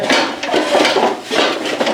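Metal cooking pots clank and rattle against one another as they are handled in a utensil shop, a loud, close, continuous jangle of knocks and scrapes with no talking.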